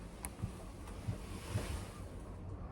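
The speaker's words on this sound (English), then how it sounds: "So you hear the wind?" Cold wind blows across an open wheat field on a winter hunting day, a steady broadband rushing with a few soft gusts and buffeting against the microphone, with no voices.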